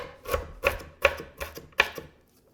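A knife chops red cabbage on a cutting board in about five firm, evenly spaced strokes, close and clear with no voices, ending in quiet.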